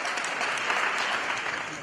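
A church congregation at a revival service applauds in a dense, loud burst of clapping that carries on steadily.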